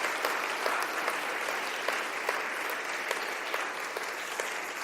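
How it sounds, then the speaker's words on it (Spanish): Church congregation applauding, a steady, even wash of many hands clapping, fairly distant and soft, with no break for several seconds. "Más de un aplauso a Dios porque nos ha permitido reunirnos a pesar de nuestras diferencias."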